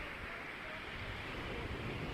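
Sea waves wash along the Gurzuf embankment in Crimea in autumn, a soft steady broadband rush mixed with wind noise, faint and continuous with no voices.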